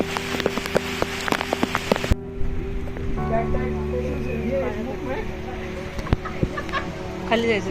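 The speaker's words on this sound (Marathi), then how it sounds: "आता किल्ल्यावर फारच जोरात पाऊस पडायला सुरुवात झाली होती" Heavy monsoon rain pours down on Tandulwadi hill fort in a dense, continuous patter, with voices and some clucking-like sounds mixed in over it.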